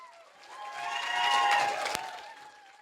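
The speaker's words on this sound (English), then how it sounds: "Start clapping. Start cheering" An audience at a student comedy society stand-up show claps and cheers, the applause and whoops swelling to a peak and then tapering off, a little distant and fairly soft.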